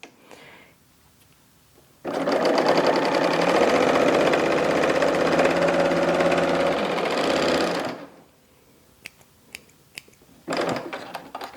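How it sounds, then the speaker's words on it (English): A serger stitches fabric folded right sides together into a tube, running in one loud steady mechanical burst of about six seconds, with quieter handling clicks and a short final run afterward. "I'm just folding them right sides together and serging it into a tube."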